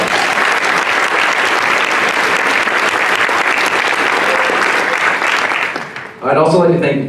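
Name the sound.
wedding guests applauding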